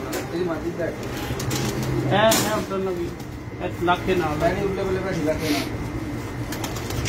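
Pigeons coo softly on the rooftop of a seven-storey building, low murmuring calls running under steady talk with some background noise.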